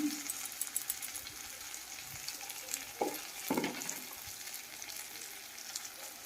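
Goat meat sizzling in a pan as turmeric and chilli are stirred in, with a steady fry hiss broken by a few scraping stirs of the spoon.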